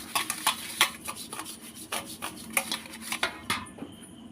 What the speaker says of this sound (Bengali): এখানে একটা ছিদ্র থালা আমি নিয়ে নিয়েছি, আর থালার গায়ে আমি একটু হালকা করে তেল লাগিয়ে নিচ্ছি